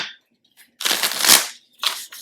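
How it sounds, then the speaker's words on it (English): A deck of tarot cards is shuffled close by: a dense riffling burst of about three-quarters of a second, then a short second flurry after a pause, with no talking. "I'm just going to shuffle another deck,"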